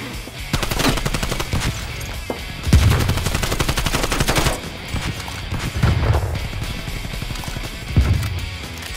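Call of Duty gunfire rattles in loud rapid automatic bursts with single heavy shots mixed in, several volleys spread across the stretch and nobody speaking.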